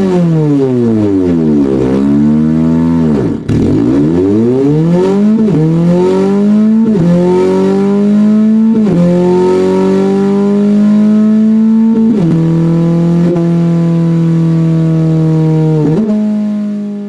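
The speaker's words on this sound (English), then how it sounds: "I'm going to demonstrate a Subaru with equal length headers." A simulated Subaru flat engine with equal length headers revs loudly and alone, climbing in pitch over and over with a smooth, even drone, each run dropping back briefly before rising again.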